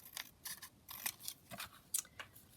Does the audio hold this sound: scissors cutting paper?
yes